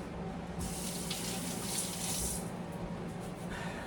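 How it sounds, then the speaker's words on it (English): Running water from a kitchen tap splashes steadily over sticky hands being rinsed while making apple jelly, a continuous close hiss and patter that swells and then eases. "Let me rinse my hands because they're sticky"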